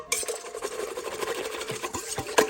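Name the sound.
stirring honey into bread batter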